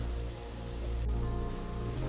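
Hot oil sizzles and crackles steadily as doughnut holes fry, a dense, continuous frying hiss heard up close without any talking.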